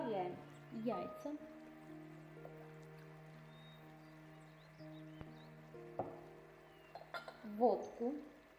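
Eggs go into a mixing bowl for puff pastry dough, with faint clinks and soft knocks against the bowl under a steady tonal background and voice-like passages.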